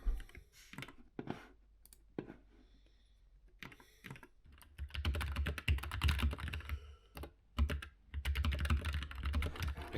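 Typing on a computer keyboard while writing a blog post in a studio, starting with scattered key clicks and pauses, then building into fast, continuous close-up keystrokes with brief breaks.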